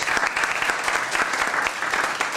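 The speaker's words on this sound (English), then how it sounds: "Let's give Bob a big round of applause." A chamber of commerce event audience gives Bob a big round of applause, a loud, even wash of many hands clapping together, continuous throughout and with no talking.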